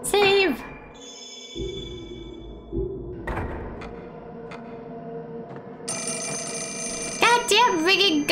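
Telephone ringing inside the horror game Fatal Frame: Mask of the Lunar Eclipse, bursts of bright electronic ringing near the start and again near the end, with game door and ambient noises in between.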